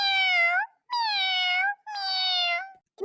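A cartoon cat meows three times in clear, drawn-out calls, each about half a second long with short pauses between, loud and alone with no talk.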